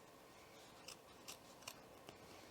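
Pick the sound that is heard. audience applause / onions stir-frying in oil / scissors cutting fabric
scissors cutting fabric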